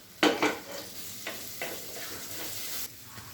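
Shallots, green chilies and curry leaves sauté in a pan for a spicy prawn curry, giving a soft, steady sizzle. A few louder clinks and scrapes of stirring stand out early on.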